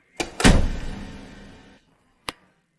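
A door swings shut with a sharp knock, then a heavy thud and a long fading rumble, followed by one more short knock after a pause.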